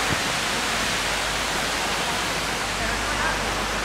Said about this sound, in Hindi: दोस्तों इधर रहा मेरे पीछे वाटरफॉल, बृंदा वाटरफॉल इसे कहते हैं।